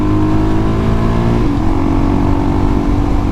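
A Suzuki DRZ motorcycle engine drones loudly and steadily while being ridden through corners, with a slight shift in pitch partway through and constant wind and road rumble.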